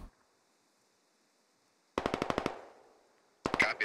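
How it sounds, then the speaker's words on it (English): A DShK heavy machine gun in the video game Squad, firing two separate bursts of rapid, evenly spaced loud shots, the first about half a second long and the second shorter, with a ringing tail between them. "One, can you get a Dishka on that hill, Delta 26? Yeah, well, don't send it there, but I want you to fire on it."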